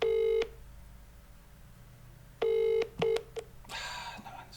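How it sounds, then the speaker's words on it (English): Telephone keypad dialing tones, a long steady beep followed after a pause by another long tone and a couple of short rapid beeps, then a rustly burst of handset noise. "So I'm just going to give Hayley a little nudge now"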